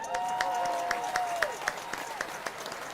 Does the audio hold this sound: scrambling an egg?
no